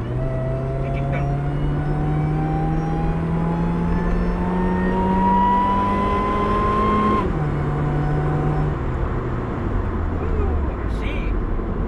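Supercharged Honda Jazz GE8 under kickdown acceleration, its engine note climbing steadily in pitch before a brief shift drop and another rise, loud and close, with occasional voices in the cabin.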